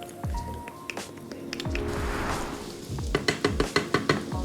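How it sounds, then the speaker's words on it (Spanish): Finely minced garlic hits hot olive oil in a preheated pan and sizzles, with a stirring utensil scraping and clinking against the pan in a quick run of sharp taps near the end. "Añadiremos en primer lugar el ajo picado finamente."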